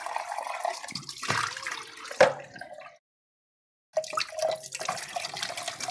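Tap water runs into a container at a sink for fresh painting water, a steady close splashing stream with a sharp clunk partway through, then a second of silence before the flow resumes.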